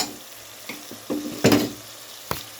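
Chili and spices sizzle and fry in a pan on a stovetop, with a few louder bursts of crackle and the scrape of stirring in between; no one speaks.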